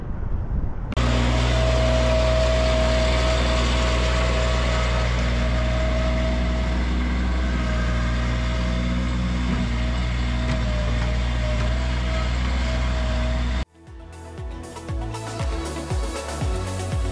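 Skid steer loader engine running loud and steady at close range while scraping and grading ground beside a drainage pipe trench, ending in an abrupt cut to rougher, uneven engine and clatter sounds.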